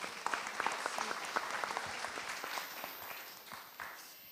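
Audience applause for the CIDFF president at a conference held at the Musée de Grenoble, steady clapping from a full room that carries on throughout and thins slightly toward the end.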